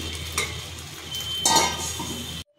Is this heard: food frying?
yes